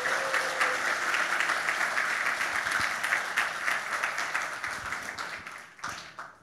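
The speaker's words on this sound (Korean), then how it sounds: "다시 한번 박수 쳐주시기 바랍니다" A church congregation at a Christmas service applauding, a dense wave of clapping that holds steady for several seconds before thinning out and fading.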